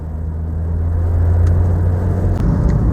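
A car drives along a road on the way to a temple, a steady close engine rumble and tyre whir inside the vehicle with no talk.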